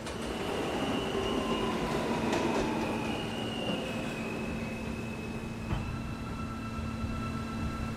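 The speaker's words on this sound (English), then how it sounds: "This is a Calgary Street bound F local train." A Roblox subway train, an R160A running as an F local, rolls steadily along with a constant mechanical rumble, sustained tonal motor whine and faint wheel squeal, without speech.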